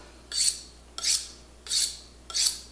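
A knife sharpened on a whetstone: four even, rasping strokes close up, each a short scrape with a brief quiet gap between, against a faint low hum.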